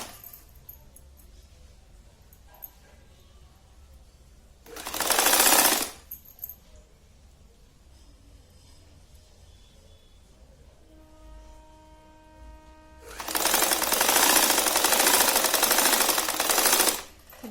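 Sewing machine stitching fabric for a gomukhi japa mala bag, two rapid mechanical bursts, one short and one longer, separated by quiet handling sounds.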